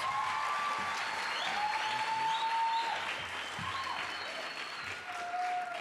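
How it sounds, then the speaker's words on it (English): An audience applauds steadily for a departmental guest at a school poster competition ceremony in Gauteng. The dense clapping fills the whole stretch, with faint tonal ringing above it. "Can we give you a round of applause?"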